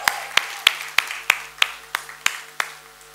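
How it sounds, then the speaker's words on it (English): Applause at a crime series trailer launch press conference, heard as about nine separate sharp claps spaced evenly apart rather than a dense crowd, close and fairly loud over a quiet hum. "we can quadruple that round of applause"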